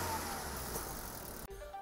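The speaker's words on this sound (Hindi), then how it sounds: "आप इंजन की नॉइज़ सुन रहे होंगे ये नॉइस है आई ट्वेंटी की सी के साथ" A Hyundai i20 running on CNG idles with a faint, even engine hum that breaks off abruptly near the end before resuming more quietly.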